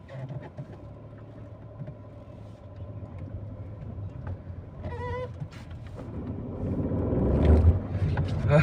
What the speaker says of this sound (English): Today we're gonna do a night drive with a Volkswagen Tiguan TDS.